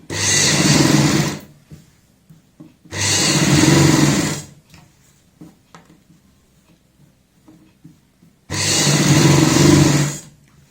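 A sewing machine runs in three loud, steady bursts as it stitches a one-foot-wide seam around a kurti neckline, with quiet pauses of handling noise between the runs.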